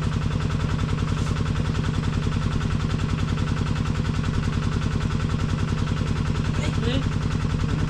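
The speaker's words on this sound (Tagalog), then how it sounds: "medyo maingay yung makina" A farm machine runs during a harvest, a loud, fast, even mechanical chugging that stays close and constant throughout, with faint voices in the background.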